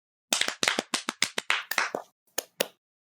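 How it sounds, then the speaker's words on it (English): A pair of hands claps about a dozen times in quick, slightly uneven bursts, sharp and fairly close, with a brief pause before two final claps and no talk. "those clapping hands we just heard at the other end of the city"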